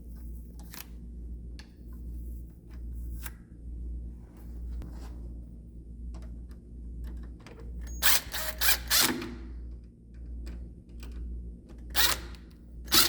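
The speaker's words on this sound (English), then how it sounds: "you can take the screws and reattach them" Screws being driven back into patio door roller brackets, heard as bursts of sharp ratcheting clicks and mechanical whirring over a steady low hum, loudest in clustered spurts near the end.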